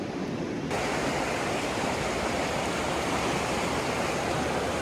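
River water rushes steadily at close range where it floods over a small island, a constant broadband roar with no voices.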